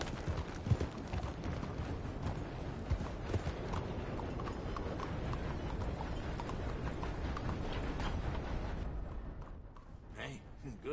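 Rapid horse hooves in Red Dead Redemption 2 clip-clop continuously at a steady canter, fairly close, over a dense background rumble that drops away near the end.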